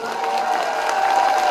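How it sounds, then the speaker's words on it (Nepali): Audience clapping together at a college event at Walling Multiple Campus, a short, dense, steady burst of applause mixed with crowd noise, fairly loud throughout. "जोरदार ताली, जोरदार।"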